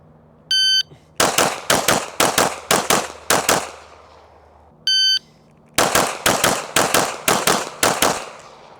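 Two bursts of rapid pistol fire from a custom 2011 and a Glock, each string a quick series of loud, sharp cracks preceded by a short electronic timer beep, with a pause between strings.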